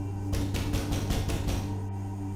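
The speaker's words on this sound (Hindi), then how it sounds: "दीवार के पीछे से अचानक दस्तक की हल्की सी आवाज सुनाई दी।" A quick run of about six muffled thuds, like knocks on a wall, over a low background hum.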